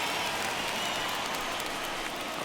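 Crowd of over 39,000 at a baseball stadium during an All-Star Game, a dense, steady roar of cheering and clapping that holds without pause.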